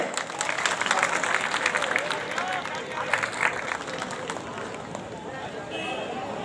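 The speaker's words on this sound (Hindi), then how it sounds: "जोरदार तालियों से" Loud crowd applause at a political welcome rally in Pabo bazaar, a sustained burst of many hands clapping with crowd babble and voices mixed in, holding steady throughout.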